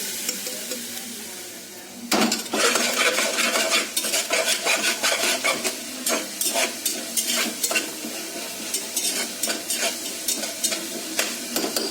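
Ginger garlic paste and mint sizzle in a pan for a chicken curry while a spoon stirs and scrapes, making rhythmic clinks and scrapes over a constant frying hiss that starts abruptly and carries on throughout.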